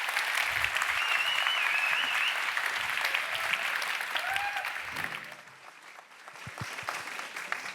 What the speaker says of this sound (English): Yes, now you can clap.